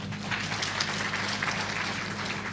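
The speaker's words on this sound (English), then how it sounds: "Can we clap for Brother Saul?" A church gathering claps in a continuous, even patter over a low steady hum, moderately loud throughout the short stretch, with no voices on top.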